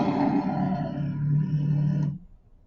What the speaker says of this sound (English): That was a tiger roaring.